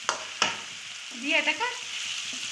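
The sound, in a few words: dry red chillies, onion, ginger, garlic frying in pan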